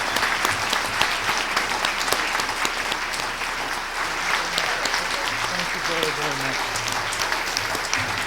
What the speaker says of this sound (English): ask for another round of applause for Professor Stiglitz for coming